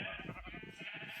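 Sheep bleating in the Minecraft video game, a single wavering, pulsing bleat lasting about a second, fairly quiet and heard alone without talk.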